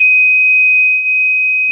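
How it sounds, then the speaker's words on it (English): A loud, steady electronic buzzer tone from a blown-fuse detector sounds continuously without a break, shrill and piercing, close to the microphone, signalling a near dead short. "why that buzzer is going off"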